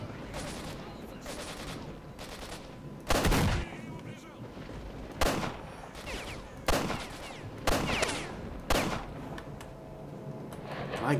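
Pistol fire in STALKER: Shadow of Chernobyl, loud sharp shots spaced a second or two apart, about eight in all, each with a short echoing tail over low ambient background.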